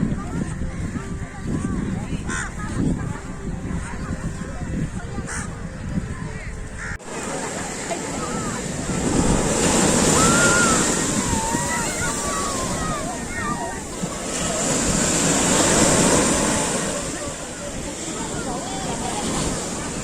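Ocean surf at Marina Beach in Chennai, a long sandy city beach: broad rushing waves swell and fade in slow surges while crows caw intermittently nearby, with wind and general outdoor bustle underneath.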